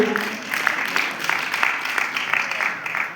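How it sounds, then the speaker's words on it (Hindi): An audience claps together through a motivational talk, a dense steady patter of many hands that carries on evenly throughout with no voices over it. "तो जोरदार तालियां अपने आप के लिए।"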